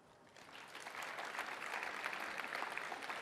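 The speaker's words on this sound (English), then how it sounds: "can you clap your hands?" Audience at a product keynote conference clapping hands, a dense wash of applause building over the first second and holding steady, moderately distant and fairly faint, with no talking.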